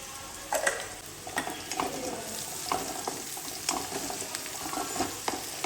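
Chilli powder being stir-fried with capsicum for dry cabbage manchurian: a close, steady sizzle with repeated scraping and clinking strokes of a spatula against the pan at an even rhythm.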